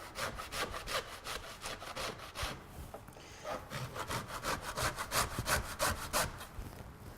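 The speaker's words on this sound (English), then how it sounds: "So grate whatever you can off the rind." Cheese being grated off its rind gives a close, steady run of rhythmic rasping strokes, about two or three per second, pausing briefly before carrying on.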